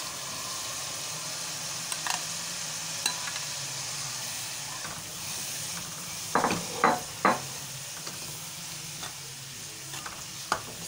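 Six medium tomatoes, finely chopped, sizzle and fry in a hot pan for spicy chana dal. Near the end, a spoon stirs and scrapes against the pan in a few brief, louder clatters.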